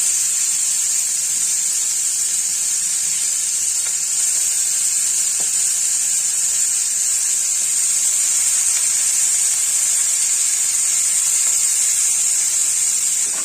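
Tangra fish hitting hot oil in a pan set off a loud, steady hiss of frying that holds evenly and unbroken throughout, with no voices.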